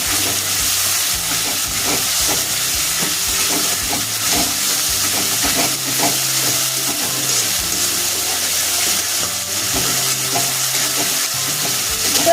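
Spices and salt frying in oil for a rohu fish curry, a loud continuous close sizzle and hiss with frequent scraping stirs throughout, and no one speaking.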